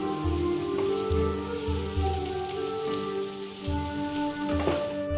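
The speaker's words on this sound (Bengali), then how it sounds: "এবার আবার একটু নেড়ে দেবো।" Capsicum with red and yellow bell peppers frying in a pan for a vegetable soup: a soft, continuous sizzle broken by regular low scraping thumps as the vegetables are stirred.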